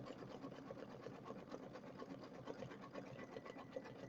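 An embroidery machine stitches metallic satin stitches, a steady, fast, even needle rhythm with soft mechanical clatter running throughout at a quiet level.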